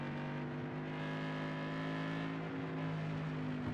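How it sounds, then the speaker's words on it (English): A race car engine drones close by with a steady tone, wavering and faltering slightly as it stutters and stumbles, with no talking. "You can hear the car stuttering and stumbling."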